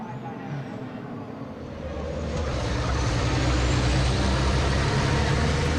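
Racing trucks at speed during an FIA European Truck Racing Championship race, a dense roaring engine and road noise that swells louder after a couple of seconds and holds steady, with no talk.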